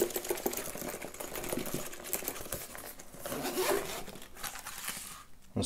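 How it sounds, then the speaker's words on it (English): A Target Takoma BluePrint dart case being zipped shut, with a close, continuous rasping zipper pull and a few scrapes and rustles as the case is handled. "And just zip it up."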